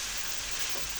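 Bitter gourd sautéing in a hot pan gives a steady, loud, dense sizzle with a continuous frying hiss throughout, no voices.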